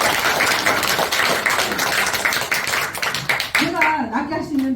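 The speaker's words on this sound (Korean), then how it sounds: "박수 한번 쳐보세요." An audience claps at a tea and health lecture in a Buddhist temple, with dense, steady applause lasting around three and a half seconds before a voice begins speaking as the clapping dies away.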